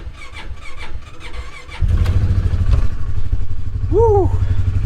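A vehicle engine on a snowy homestead cranks, catches at about two seconds and settles into a steady, loud idle, with a brief squeal of a voice late in the clip.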